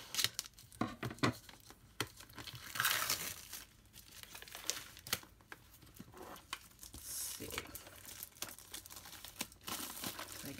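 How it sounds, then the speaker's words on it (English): Plastic wrapping on a box of Yoseka stationery crinkles and crackles up close as it is pulled and torn away, in irregular bursts with no talking. "I'm going to get the wrapping off here."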